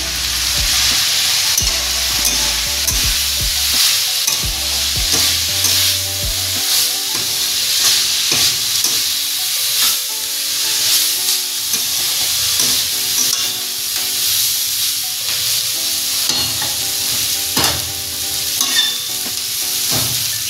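Bottle gourd peel fries on high heat in a pan, a loud continuous sizzle with frequent scraping and clinking as a spatula stirs it, close and steady for the whole stretch, with no talking.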